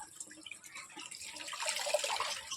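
Water splashes and drips as a lungi is washed by hand, soft trickling and sloshing that grows louder toward the end, with no talk.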